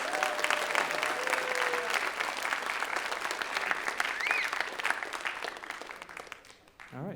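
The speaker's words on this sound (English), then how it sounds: "Let's give them one more round of applause, please." Steady audience applause at a school writers' week event, many hands clapping together close and loud, with a few whoops over it before the clapping thins and fades out.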